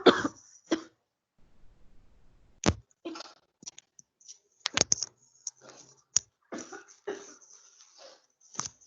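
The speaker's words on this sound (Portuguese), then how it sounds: "Tive uma crise de tosse aqui." A woman has a coughing fit, with several sharp coughs and throat clearing scattered across quiet gaps in an indoor room, some close and loud.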